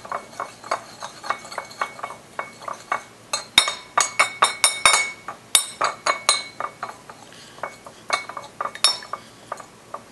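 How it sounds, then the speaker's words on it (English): A spoon clinks and scrapes against a bowl while stirring garlic and wasabi into soy sauce, with a steady run of close, bright taps and a few sharper knocks, with no voices. "we'll just stir it up until the garlic and the wasabi have all been blended together into the soy sauce"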